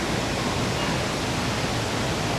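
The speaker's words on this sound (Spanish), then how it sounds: "apenas entramos, ahí hay una cascada impresionante" An impressive waterfall at the entrance of a cave in the Amazon pours as a dense, steady roar of rushing water, loud and unbroken with no voices.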